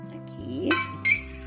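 A spoon clinks against a metal pot while green tea leaves are added to nearly boiling water, giving two bright, close metallic chinks over a soft background hum.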